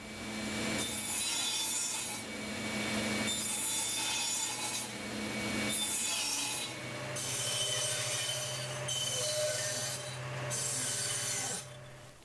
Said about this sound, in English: Let's go over to the saw.